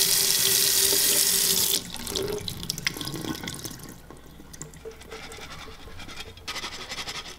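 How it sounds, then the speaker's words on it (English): Water pours and splashes loudly from broccoli sprouting jars through their perforated lids for about two seconds, then gives way to quieter trickling, dripping and light scraping. "Just draining the water out."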